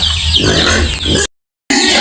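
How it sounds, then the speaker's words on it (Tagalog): Pigs in a pen on a provincial farm grunt and squeal loudly up close, broken by a brief moment of silence. "Ito pala guys yung mga baboy namin guys."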